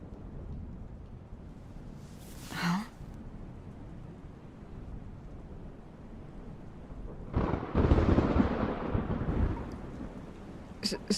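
Steady rain falls throughout a thunderstorm. A sharp crack comes early, followed later by a loud, close rumble of thunder that builds and fades.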